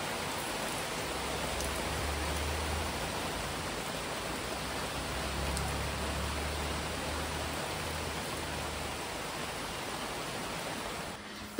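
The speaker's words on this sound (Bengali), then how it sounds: "আর মারাত্মক পরিমাণে বৃষ্টি শুরু হয়েছে বাইরে" Heavy rain pours outside in a dense, unbroken hiss that holds at a steady level throughout, with no voices.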